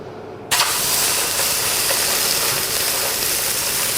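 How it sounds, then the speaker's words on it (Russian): Pork neck searing without oil in a hot dry frying pan as it is turned, a loud steady sizzling hiss bursting in abruptly after a brief quiet moment and holding evenly to the end. "обжариваем, точнее прижариваем. Постепенно вращаем по сковороде"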